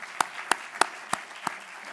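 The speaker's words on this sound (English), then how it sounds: "let's give her a round of applause." A handful of sparse, evenly spaced handclaps from an audience at a medical lecture on myelofibrosis, five sharp claps in two seconds, fairly quiet and without voices.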